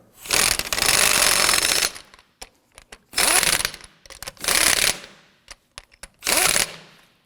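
Impact wrench snugging down lug nuts on a 2008-2011 Ford Focus wheel: four loud, close rattling bursts of one to two seconds each, separated by short pauses with light clicks.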